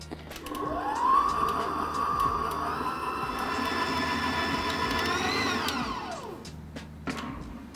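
An electric mixer blends flour into chocolate peanut butter cookie dough. Its motor whine ramps up in pitch, holds steady for several seconds, then winds down, moderately loud with no talking.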